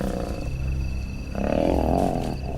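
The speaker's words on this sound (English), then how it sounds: "You always see and hear about lion fights, but now it's happening." Mapogo lions fight in the Sabi Sand wilderness, letting out deep, rumbling roars and snarls that swell louder halfway through, a raw continuous growling brawl with no talk.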